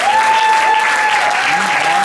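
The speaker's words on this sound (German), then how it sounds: "Nochmal großen Applaus mit der zweiten." Loud applause fills the space at a talent show year-end final in a pool garden venue, with a sustained high whistle-like tone ringing over the clapping.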